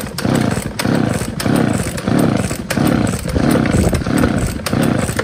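A Sinawa 350 chainsaw with a 45 cm bar is pull-started with no fuel, giving a loud, steady rhythm of repeated cord pulls and rattling cranking, close by, with no speech.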